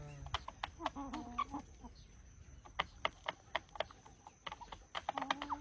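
Chickens cluck intermittently in a home yard where a rooster is tied up nearby, mixed with sharp scattered taps. The sounds are fairly faint and there is no talking.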